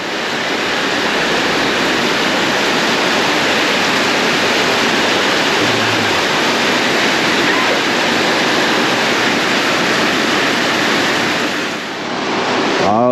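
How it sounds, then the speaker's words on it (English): Strong, steady roar of a tropical waterfall in the rainy season, its spray loud and close, a dense unbroken wash of falling water with no voices. "The water's spraying all over me."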